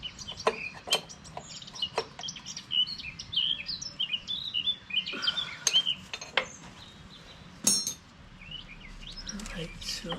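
Many small birds chirp and tweet outdoors in a busy, overlapping chorus of quick calls, moderately close, with a few sharp clinks and faint low background rumble.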